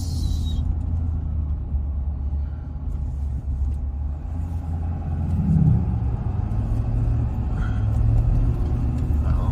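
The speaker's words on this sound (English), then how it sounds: "And we have cars coming." Cars pass along a road where trees are being cut and cones are set out, a steady loud rumble of tyres and engines swelling as vehicles approach, with no talking.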